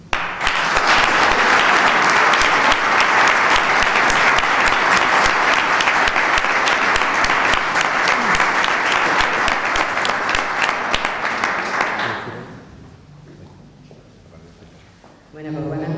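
Audience applause at the opening of a nature photography exhibition by a photographic association in Antequera, a loud sustained burst of many clapping hands that fades out, leaving a quiet room before a voice begins.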